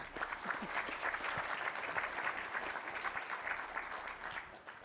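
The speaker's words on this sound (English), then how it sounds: "I think that is worthy of an applause." An audience applauds after live software demos at a tech conference session on multi-agent data solutions, a dense, steady wash of many hands clapping that holds evenly for the whole stretch with no voices over it.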